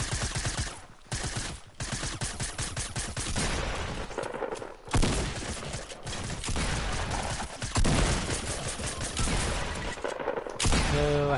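Video game gunfire comes as dense, continuous bursts and rapid fusillades that fill the clip loudly, broken only by short gaps.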